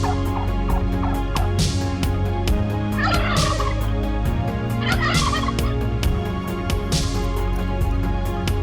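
A flock of turkeys on a farm in Taiwan gobbles loudly and continuously, many overlapping calls close by with repeated bursts of rapid gobbling.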